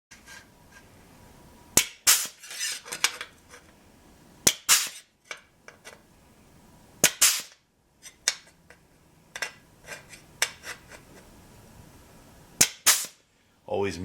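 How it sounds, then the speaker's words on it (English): Holes are punched and welded on a 57 Chevy radiator mount in a workshop, heard as loud, sharp, irregular snapping bursts and crackles spaced by short quiet gaps. "I'm gonna punch a couple holes in there and weld that"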